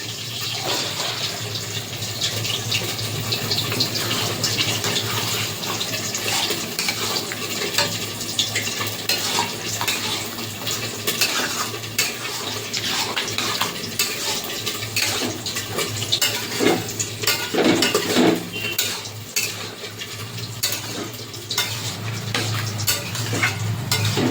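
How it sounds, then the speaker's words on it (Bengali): Boiled chickpeas are stirred and sautéed with spices in a pan, giving continuous sizzling with scraping and clinking from the utensil, close and steady. "চানাটার সঙ্গে মশলার সাথে ভালো করে একটু কষিয়ে নিয়েছি"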